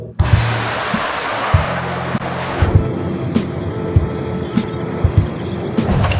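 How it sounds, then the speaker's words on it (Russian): Water streams down steadily in a spa shower room at a thermal bath complex, a dense hissing rush with scattered splashes and knocks. "И на тебя льет вода, короче."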